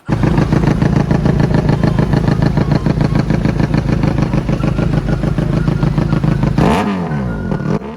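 A motorcycle fitted with a black aftermarket exhaust pipe revs loud and close, its engine roaring in a steady, throaty drone before the pitch swings and drops off near the end.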